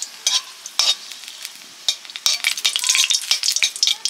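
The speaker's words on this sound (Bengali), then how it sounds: "মুগ ডালে ফোড়ন দেব, শুকনো লঙ্কা, তেজপাতা," Dry red chillies and bay leaves hit hot oil to temper moong dal, giving sharp bursts of sizzling and spattering with stirring clatter, close and intermittent, growing denser toward the end.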